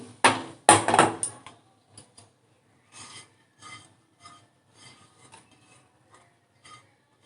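Roasted dry fruits are scraped from a pan into a pot, starting with a few loud metallic clanks and rattles, then softer, scattered scrapes and taps that fade to quiet, with no voices.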